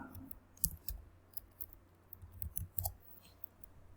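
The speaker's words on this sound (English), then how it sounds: "Now whatever I am typing, for example Java program" Quiet, sparse clicks of keys being typed on a computer keyboard, irregular and close, with no talking.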